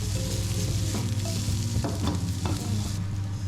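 Onions stir-frying in a wok with Chinese rice wine, a loud, continuous close-up sizzle with scraping stirs of the spatula, alone without any voices.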